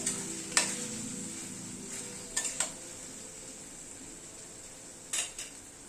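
Chicken coated with tomato ketchup and kasundi mustard stirred in a pan, a low steady sizzle broken by a few sharp metallic clinks of a spoon against the pan.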